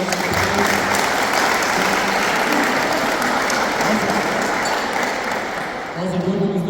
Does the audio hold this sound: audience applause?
yes